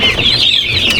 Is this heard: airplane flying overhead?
no